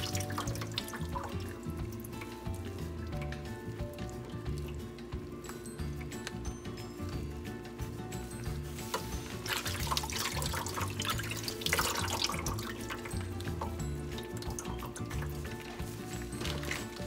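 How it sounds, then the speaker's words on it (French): Water runs steadily from a tap while lobster is rinsed in water with lemon and vinegar, a continuous splashing flow with light drips over a low background hum. "Nous rincer li dans l'eau citron avec vinaigre là."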